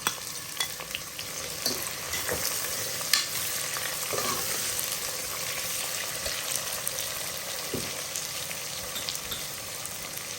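Onions fry in hot oil with a constant close sizzle, with occasional stirring scrapes and light clicks over the steady crackle, no voices.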